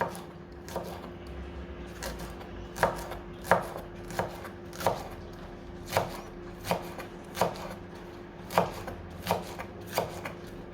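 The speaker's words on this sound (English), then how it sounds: "I'm just chopping them finely" A knife finely chops green onions on a cutting board, a dozen or so crisp close taps at an uneven rhythm with a low hum beneath.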